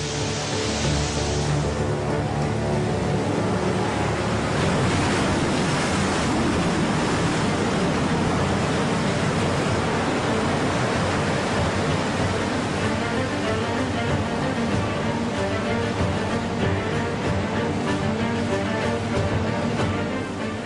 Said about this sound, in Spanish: El agua circula por los túneles y cae al río.